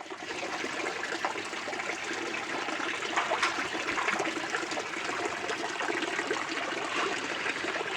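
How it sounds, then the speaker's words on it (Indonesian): A water spout fed by two small pumps pours into an unfiltered fish pond, a steady close splashing and gurgling that runs continuously without talk. "kolam ini kita tidak pakai filter, hanya pancuran, 2 pompa kecil"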